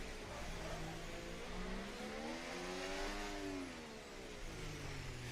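A Formula 1 race car in the F1 24 video game revs steadily as it warms its tyres around Monaco, a continuous rising and falling engine drone that holds loud and close throughout.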